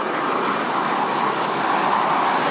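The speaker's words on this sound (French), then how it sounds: "Les Alpha Jet décollent toujours impeccablement groupés" Alpha Jet military jets of the Patrouille de France taking off in tight formation, a loud steady jet engine roar filling the whole stretch without breaks or voices.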